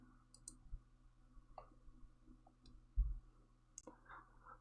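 A computer mouse clicking during a software tutorial, a few faint sharp clicks in a quiet room, with one slightly louder click near the middle.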